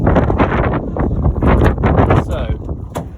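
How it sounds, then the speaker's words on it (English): Strong wind buffets the microphone outside a Bessecarr E460 motorhome, gusting and rumbling while someone talks over it close by. "whoa, really is windy."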